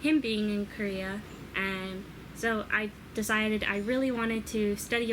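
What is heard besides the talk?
No distinct noise like a dog, phone or traffic.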